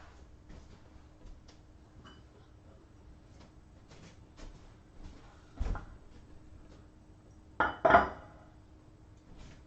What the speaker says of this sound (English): Me arranging dishes, y'all.